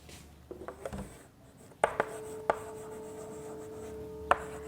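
Chalk or marker writing on a classroom board, a series of short scratchy strokes and taps with pauses between, close and fairly quiet, no talk.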